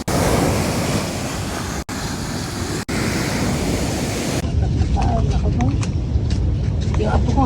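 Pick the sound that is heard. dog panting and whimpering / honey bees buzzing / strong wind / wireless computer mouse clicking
strong wind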